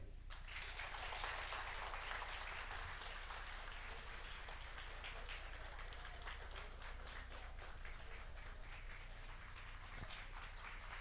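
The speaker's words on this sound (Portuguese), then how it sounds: "Aplausos muito merecidos." Audience applause after a talk at a book fair pre-opening, a dense steady patter of many hands clapping at a distance, fairly faint and sustained throughout without letting up.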